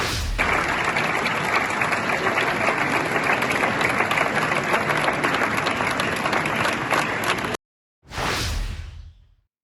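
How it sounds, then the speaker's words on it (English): UN delegates applauding the adoption of the Pact for the Future, a dense sustained roar of clapping from a large hall that cuts off abruptly, followed by a brief whooshing transition sound. "So isn't it lovely to see them all applauding themselves?"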